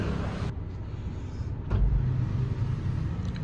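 Toyota Hiace shuttle van driving on a road between Jakarta and Solo, a steady low engine and road rumble heard from nearby, with a brief thump partway through and a continuous drone.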